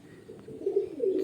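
Pigeons coo softly in a low, rolling murmur, a few rounded calls swelling in the middle and near the end, fairly close and with no talking.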